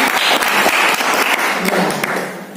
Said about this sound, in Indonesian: Oke, tepuk tangan buat Bapak semuanya.